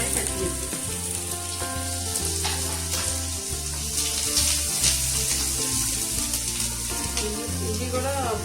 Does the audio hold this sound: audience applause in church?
no